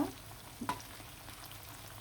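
Small pieces of chicken fry in hot oil with a quiet, steady sizzle and a couple of soft clinks from stirring.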